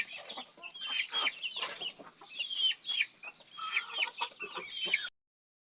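Backyard flock of Rhode Island Red and native chickens clucking and chattering continuously, many overlapping calls close by for several seconds before cutting off.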